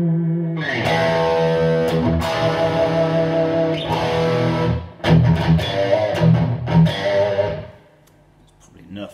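A 1983 Tokai Silver Star Stratocaster played through an amp with the gain turned up to 9, giving loud, sustained distorted chords and notes with brief breaks, fading near the end.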